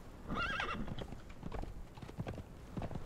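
In the game Conan Exiles, a ridden horse gives a short, high whinny early on while its hooves clip-clop in an uneven rhythm on stone steps, quiet and close throughout with no talk.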